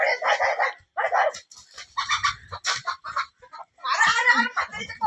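Chickens cluck in close, repeated bursts, mixed with occasional shouting voices and a dog-like bark.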